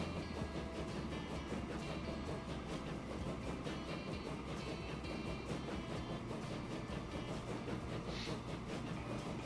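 Trains rolling on rails in the game Transport Fever, a steady dense rumble with clickety-clack rhythm and mechanical clatter, fairly loud and continuous throughout with no talk.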